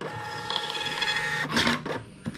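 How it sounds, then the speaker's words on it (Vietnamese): Xprinter WiFi thermal printer printing a receipt: a continuous mechanical whir and buzz, then a few quick louder clacks near the end as the paper finishes, heard close with no talking. "Rồi in hóa đơn."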